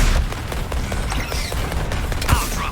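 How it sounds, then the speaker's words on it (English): Artillery barrage in the Suicide Squad: Kill the Justice League video game, a dense run of booming blasts and rapid gunfire under continuous battle noise, with a heavier thud near the end. "Deploying artillery."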